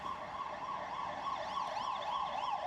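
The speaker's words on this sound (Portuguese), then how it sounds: "Barulho da ambulância ali." An ambulance siren wails in a steady up-and-down cycle, moderately distant and continuous, with no one speaking.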